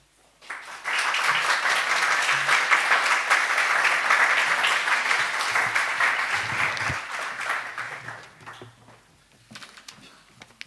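After an evening talk on artificial intelligence from a Christian viewpoint, a hall audience breaks into moderately loud, even applause that holds for several seconds, then fades out with a few last claps.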